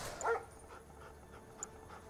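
Dogs from the video game Command & Conquer: Red Alert 3 give a brief soft yelp and light panting, faint and short against quiet game background noise.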